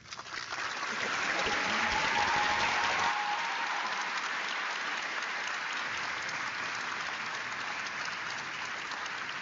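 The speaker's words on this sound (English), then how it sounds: "another round of applause for Mr. Krauntz's beautiful introduction" Audience applause at a 2025 high school graduation ceremony, a dense, sustained clapping from a large crowd that swells quickly and holds steady.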